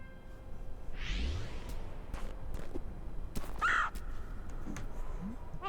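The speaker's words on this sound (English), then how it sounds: "Oh, it's that bird." A bird calling in the platformer game Celeste, a couple of short raspy caw-like cries over soft game ambience and scattered clicks, moderately near.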